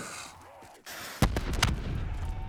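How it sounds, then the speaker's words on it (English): A weapon explosion in a Black Ops 3 custom zombies map, one sudden booming blast followed by a few sharp cracks and a rumbling tail, distant-sounding over game ambience. "Sounds like a plane's dropping a bomb."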